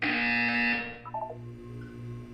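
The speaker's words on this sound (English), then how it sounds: "You will hear a buzzer." A loud electronic buzzer from the video game Portal 2 sounds as a steady tonal drone for under a second, followed by quieter blips and a lingering low hum.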